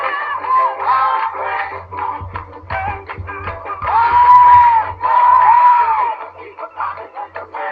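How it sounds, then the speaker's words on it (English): A woman's high, sustained screams from an old film scene, played back as a recording, loud and repeated in several long wavering bursts over a faint low hum. "How's that for a scream?"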